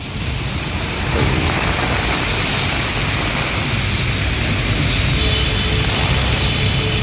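Steady, dense roar of heavy rain in Secunderabad, Hyderabad, with a broad hiss throughout, continuous and fairly loud, no voices.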